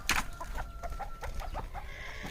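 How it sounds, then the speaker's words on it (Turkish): Chickens cluck in a farmyard as they are fed bread, a string of short, fairly close clucks and calls running steadily over a low background, ending with one brighter squawk. "Şimdi tavuklarımıza ekmek vereceğiz"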